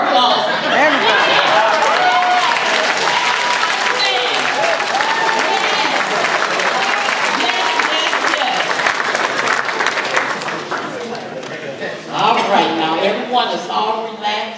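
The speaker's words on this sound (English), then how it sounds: "please stand so you can get your applause" A conference audience at a Toastmasters district contest gives sustained, loud, dense applause that carries for many seconds, with voices and chatter mixed in before it thins out near the end.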